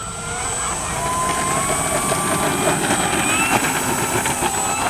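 A large, heavy RC P-51 Mustang warbird model flies in a slight crosswind, its motor giving a steady, even drone that holds for several seconds with no talk.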